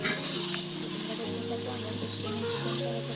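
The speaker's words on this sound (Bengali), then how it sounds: "মিট মশলা কষিয়ে নেবো" Chicken sizzles with spices in a hot pan while being sautéed for a spicy red chicken curry, a steady close frying hiss throughout with a person talking over it.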